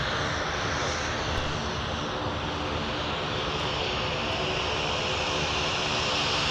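A Metroliner twin-turboprop taxis along taxiway Mike at Minneapolis–St. Paul airport, giving a steady, continuous engine drone at moderate distance that holds even for the whole stretch with no voices.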